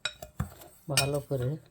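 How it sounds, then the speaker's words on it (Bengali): A spoon clinks and scrapes against a bowl while powdered milk is stirred in, giving a few sharp taps and then longer, louder rattling strokes, close up, with a brief spoken phrase. "গুঁড়া দুধটা দিয়ে দিলাম। এখন মিক্স করে নেব"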